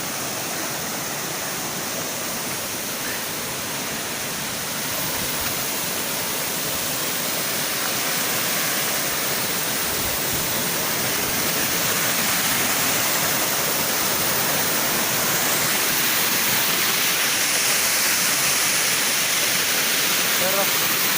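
Salvosa Falls in Araibo, Pantukan, Davao de Oro roars loudly and steadily as a dense, unbroken rush of falling water that grows slightly stronger toward the end.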